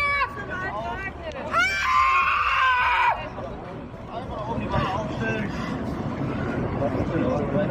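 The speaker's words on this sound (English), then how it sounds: "She's screaming like she's delivering triplets, quadruplets." A female activist on a road screams and whimpers in a high, strained, wavering cry that peaks loudly for a second or two. Agitated voices and crowd babble follow and continue underneath.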